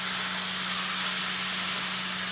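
Italian sausage meat browning in a pan for lasagna gives a steady, close, continuous hiss and sizzle with no break, with a faint low electrical hum beneath and no talking.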